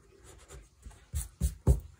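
A pencil eraser rubbing out short lines on drawing paper: a few soft scrubbing strokes building into three brisker, louder rubs near the end, close and alone.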